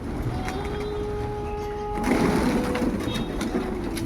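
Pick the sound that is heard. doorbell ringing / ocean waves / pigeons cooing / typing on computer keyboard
pigeons cooing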